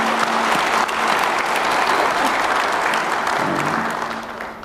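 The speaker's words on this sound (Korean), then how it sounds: "격려의 박수 한번 부탁드립니다" Audience applause of encouragement at a formal government event, a large crowd clapping loudly and continuously before tapering off at the end, with faint voices underneath.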